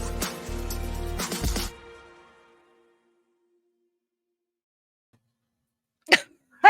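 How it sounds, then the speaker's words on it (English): After a jingle fades to silence, a sharp sneeze bursts out near the end, followed by another quick explosive sound. "I just sneezed."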